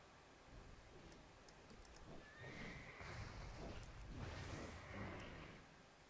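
A horse whinnies in World of Warcraft, a drawn-out neigh rising over soft hoof clip-clops and a quiet outdoor ambience, fairly faint and followed by a second, fainter call.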